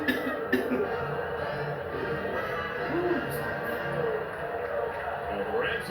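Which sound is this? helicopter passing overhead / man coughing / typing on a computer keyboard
man coughing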